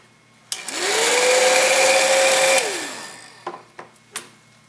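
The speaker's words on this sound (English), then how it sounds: "Then take your heat gun." A heat gun blows hot air onto heat shrink tubing over a DJI ESC during a hexacopter build, a steady whirring roar that rises, holds for about two seconds and then winds down, followed by a few short clicks and taps.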